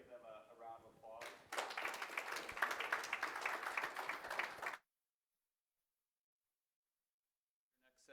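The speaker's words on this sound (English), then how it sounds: "Let's give them a round of applause." A conference audience gives a burst of applause after a panel session, many hands clapping loudly for about three seconds before it cuts off abruptly into silence, with a speaker's voice just before it.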